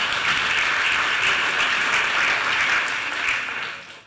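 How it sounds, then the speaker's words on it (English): Audience applause at a leadership coaching talk, dense steady clapping from a crowd that holds for several seconds before fading out at the end. "Give a round of applause."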